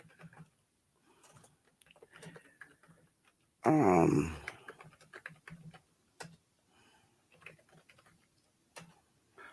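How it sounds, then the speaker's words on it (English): Scattered light taps of typing on a computer keyboard, irregular clicks near and faint, broken by one brief loud burst of noise. "I'm just typing something up so you can see."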